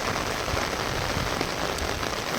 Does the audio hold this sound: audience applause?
no